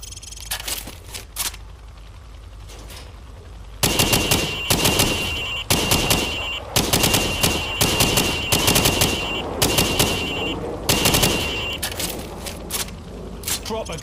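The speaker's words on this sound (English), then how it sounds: "I want you to shoot the targets through the wood" Rapid rifle fire in Call of Duty 4, shooting pop-up targets through wood on a training range: sparse single shots at first, then dense, loud bursts of automatic gunfire that carry on to the end.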